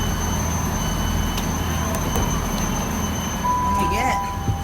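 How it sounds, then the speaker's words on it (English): A passenger train bound for Glasgow Queen Street rumbles steadily into Arbroath station with a constant low roar, a few metallic clanks and a brief squeal of brakes near the end. "This train is for Glasgow Queen Street."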